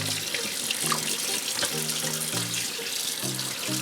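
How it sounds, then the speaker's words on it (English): Tap water runs steadily into a kitchen sink while a 12.5-pound turkey is rinsed with a cup of white vinegar, a continuous close splashing hiss with faint clinks, and no one talking. "I'm gonna wash him with a cup of white vinegar."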